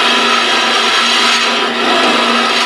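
A woodturning hollowing tool held on an Easy Arm rig cuts into spinning wood, a loud, steady, close rasping shear that runs continuously for a few seconds without talk.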